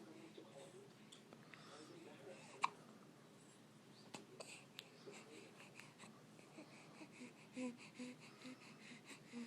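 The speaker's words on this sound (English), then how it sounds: "Go away, Hiccups." A few short, sharp hiccups, one standing out loudly, scattered among soft breathing and quiet vocal noises in a hushed room.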